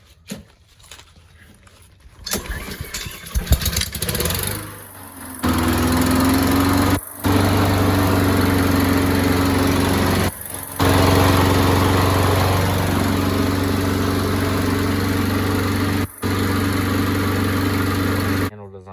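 A Honda GCV170 lawn mower engine: a few handling clunks and rattles, then the engine starts and runs at a steady loud drone, cutting out briefly a few times before resuming.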